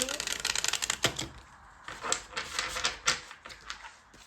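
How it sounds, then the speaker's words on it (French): Oracle cards being shuffled by hand, a quick run of soft papery riffles and taps, close and fairly quiet, with brief pauses between bursts. "J'essaie de bien mélanger."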